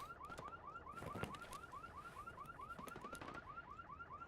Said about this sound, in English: Car alarms.